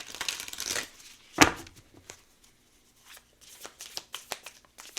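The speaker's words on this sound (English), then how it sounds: "These are kind of hard to shuffle a little bit." A thick tarot deck being shuffled by hand, with a loud riffle and a sharp slap of cards early on, then a series of lighter crisp flicks and taps after a short pause.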